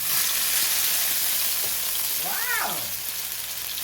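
Onions and tomatoes fry in oil for a spaghetti squash sauce, giving a steady broadband sizzle that holds through the clip, with a brief exclaiming voice near the end.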